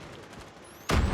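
Gunfire in the mobile shooter Call of Duty Mobile: soft muffled shots at first, then a sudden loud, close burst of gunfire that fills the last moments.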